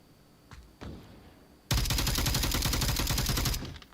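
A sustained burst of rapid automatic rifle fire in the VR shooter Onward lasts about two seconds, loud and close, after a couple of softer single shots.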